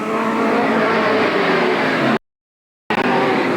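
Race cars roar around Eugene Speedway in 1987, a loud continuous engine drone from a close pack that cuts out briefly to silence before returning.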